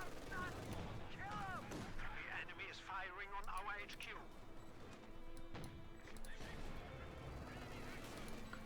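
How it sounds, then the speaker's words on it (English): Dense battle noise from the video game Company of Heroes 2, with gunfire and mortar blasts blending with horse whinnies and other game effects in a continuous, busy mix beneath a commentator's voice. "Wild Squad, they're close to being wiped out by mortar fire."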